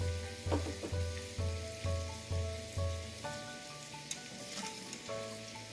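Finely chopped bamboo shoots fry and get stirred in a pan, with a soft, even sizzle beneath gentle background music and a few scraping stirs near the end.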